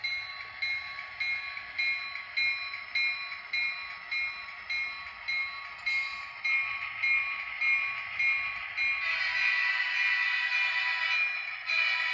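An Atlas Southern Pacific GP40 model train locomotive runs steadily, giving a continuous tonal hum with a faint rhythmic pulse, getting slightly louder and brighter near the end as it comes closer.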